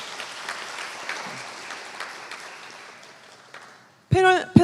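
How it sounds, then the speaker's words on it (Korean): Audience applause for four panelists at a university AI in higher education panel discussion, a moderate spread of clapping that fades out gradually before a host resumes speaking at the end. "네 분께 큰 박수를 부탁드립니다."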